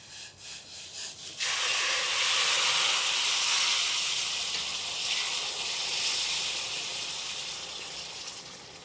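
Water splashes into a hot pan after a few soft knocks, bursting at once into a loud sustained hiss of sizzle and steam that slowly eases, heard up close with no voices.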